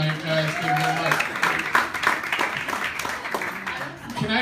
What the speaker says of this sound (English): yourself a round of applause for coming out tonight, guys